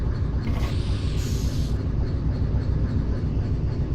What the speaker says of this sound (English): Train brake.